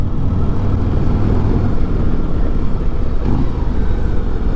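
A Harley-Davidson Street Glide motorcycle engine heard close and loud as a dense, continuous low rumble that swells slightly as it revs while riding.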